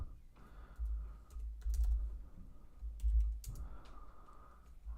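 Keys clatter in uneven bursts on a computer keyboard during a live stream, close and moderately loud, with brief pauses between flurries of typing and no voices.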